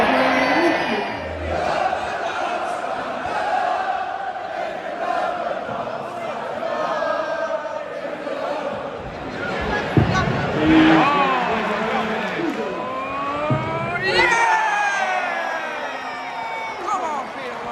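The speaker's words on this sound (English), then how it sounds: "Crowd is absolutely buzzing in here tonight." A packed darts crowd at the Butlins UK Open buzzes with loud, continuous babble, shouts and cheering that swell and surge, heard up close with voices throughout.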